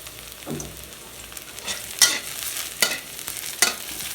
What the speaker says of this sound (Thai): รีบใส่น้ำมันกระทะร้อนควันขึ้น วันนี้จะมีเห็ดหอมเข้ามาร่วมรายการ